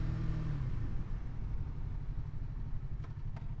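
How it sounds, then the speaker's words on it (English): A motorcycle engine after an upshift, with the throttle opened again. It gives a close, steady, low rumbling drone that holds fairly even throughout. "Squeeze the clutch, upshift with your foot, and let go. And then go back and give it some gas."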